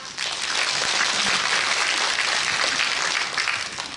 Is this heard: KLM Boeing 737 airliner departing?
no